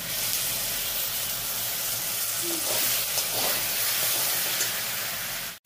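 Spice paste frying in hot oil in a pan for a Bengali cabbage dish with fish head, a loud, steady hissing sizzle running nonstop and close, with no one talking.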